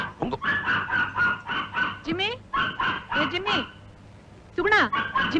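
A dog barks repeatedly in short bursts, mixed with other voices and animal calls, fairly close and loud.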